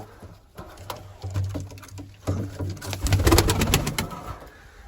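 Pigeons coo nearby in low, throaty repeated calls, with some fluttering and shuffling around them.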